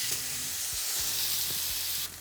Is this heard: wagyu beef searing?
yes